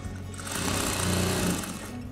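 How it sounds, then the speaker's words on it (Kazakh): An electric sewing machine runs steadily, stitching the edge of a headscarf, a fast even whirring hum that swells slightly mid-run then eases, close and alone with no talking. "қазір біз тек орамал ретінде қайтарып қана тігіп шығамыз"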